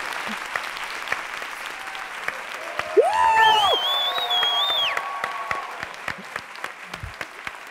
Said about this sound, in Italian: Innanzitutto mi fate un applauso per la giacca.